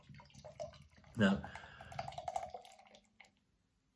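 Mikkeller beer is poured into a vessel with a gurgling splash that settles into a steady trickle and then stops. A single short spoken word is heard near the start.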